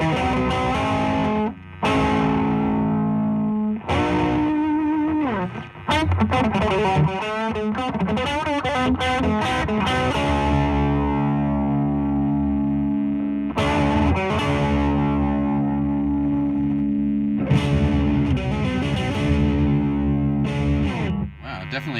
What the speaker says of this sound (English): Now I've got a bit more of that sort of clattery, hard-edged kind of overdrive.